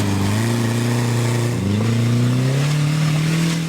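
An off-road rock-crawling vehicle's engine revs steadily at close range, a loud sustained drone whose pitch climbs gradually over a few seconds.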